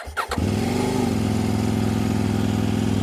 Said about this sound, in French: je trouve que le bruit du pot d'échappement est plutôt flatteur